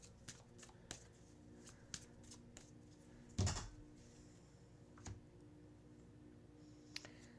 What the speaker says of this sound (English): let's end with pulling some advice and guidance cards for Leo for the first 2 weeks